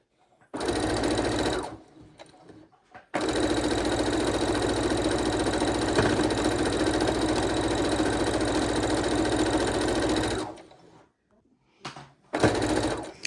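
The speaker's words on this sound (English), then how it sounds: "we're sewing them on because they're all in the scrap pile" Close, loud sewing machine runs in a long steady burst, stitching scrap quilt blocks of about one and a half inches, with brief stop-start runs before and after and short quiet gaps.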